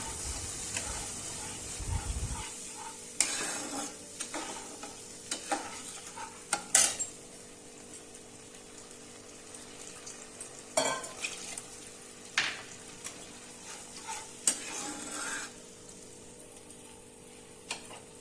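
Okra (lady's fingers) being stirred into a spicy masala in a pan, with soft frying sizzle and repeated scraping clinks of a spatula against the metal pan, close and fairly quiet, no talking.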